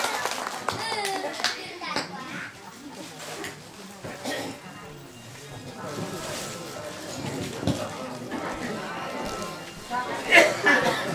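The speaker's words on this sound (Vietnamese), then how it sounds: "xin một tràng vỗ tay thật lớn để cổ vũ cho các nghệ sĩ của chúng ta hôm nay" A crowd claps for folk performers at a Muong cultural club show in Vietnam, loose hand clapping mixed with a host's voice and chatter, swelling near the end.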